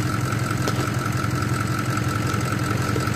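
A flatbed vehicle's engine idles steadily, a close, even mid-to-low drone with a constant hum and a faint knocking rhythm, unbroken for the whole stretch with no talking.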